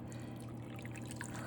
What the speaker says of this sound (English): Now we are gonna come in with 2 cups of water